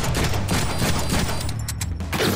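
Rapid, dense bursts of gunfire from a video game shotgun fill the whole moment, loud and close, with sharp overlapping blasts and almost no pause between them.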